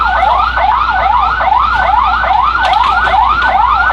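An ambulance siren wails in a fast, regular up-and-down yelp, loud and steady over a low background hum throughout, at an ammonia tank leak emergency.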